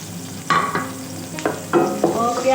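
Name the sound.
onion frying and stirred in pan with chicken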